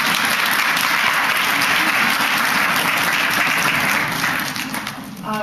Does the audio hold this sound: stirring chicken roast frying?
no